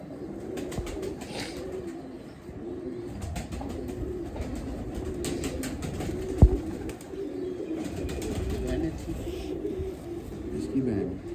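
Pigeons kept by a fancier in a park in Lahore coo in low, repeated murmurs with occasional wing flaps and clicks, while people talk nearby over steady outdoor ambience.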